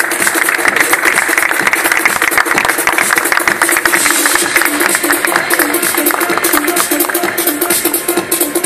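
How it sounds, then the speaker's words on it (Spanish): Loud, dense applause from the crowd at a Miss World Ecuador press presentation greets a pageant candidate, continuous rattling claps with a busy mix of voices. "Que se escuchen sus aplausos, público."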